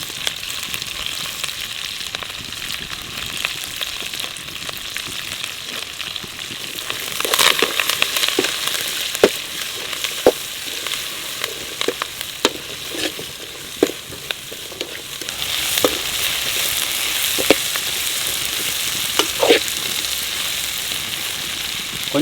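Onion, green chili and curry leaves frying in oil in a kadai for a village-style roast, a steady sizzle with sharp crackles and pops that grow busier and louder partway through, with no talking.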